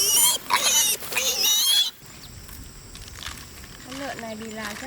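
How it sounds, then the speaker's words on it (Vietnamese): A stray pig grunts and snorts in short bursts near a person, with brief low squeals toward the end and quieter rustling ground noise between calls. "Con lợn này bị lạc chắc là đói lắm rồi."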